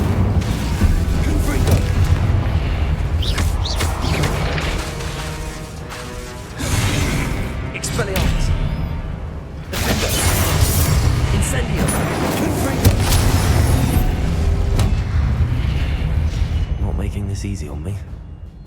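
Confringo fire spell blasts from the video game Hogwarts Legacy, several heavy booming explosions with crashing debris layered over game music and effects, with a voice speaking between them.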